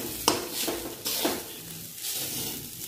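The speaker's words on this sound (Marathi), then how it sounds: "आता मी ओलं खोबरं ह्या तुपात घालणार आहे आणि चांगलं गुलाबी रंग येईपर्यंत परतून घ्यायचं आहे" Grated fresh coconut sautéed in ghee in a pan, a soft steady sizzle with a few sharp scrapes and taps of the stirring spoon, close but fairly quiet.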